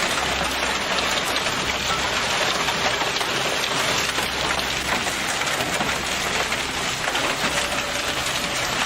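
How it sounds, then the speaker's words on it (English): Hail pelts a car during a storm, a dense, continuous patter and rattle of stones striking metal and glass, steady and loud throughout with no voices. "A car is damaged by hail."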